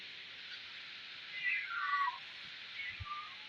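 A cat gives one faint, drawn-out meow, followed a moment later by a softer short call, set against a quiet indoor kitchen background.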